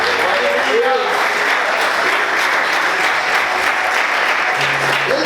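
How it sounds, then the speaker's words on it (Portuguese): A church congregation applauds with loud, steady clapping that fills the room for several seconds, with voices and cheering mixed into the dense sound. "E aplauda Jesus com bastante alegria."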